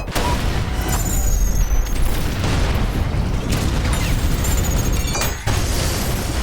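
A shotgun fired like a rocket launcher in the fast shooter ULTRAKILL, loud booming blasts and explosions in quick succession amid clattering game mechanics, with no talking.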